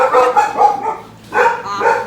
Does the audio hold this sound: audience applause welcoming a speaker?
no